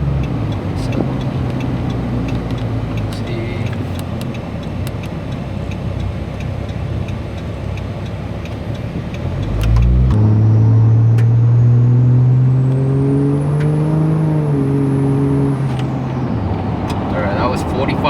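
Cummins diesel truck engine, a 4th-gen engine swapped into a 2nd-gen truck, idling with background noise, then revving up strongly at half to three-quarter throttle with a rising whine, holding loud and near before easing off.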